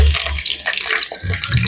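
Cauliflower frying in a pan in a home kitchen, a steady broadband sizzle and hiss lasting throughout with occasional low bumps.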